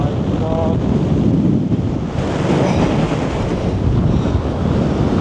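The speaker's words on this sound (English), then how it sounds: "it is so windy" Strong wind buffets the microphone on the exposed Crib Goch ridge in North Wales, a loud, continuous roaring rush with no letup.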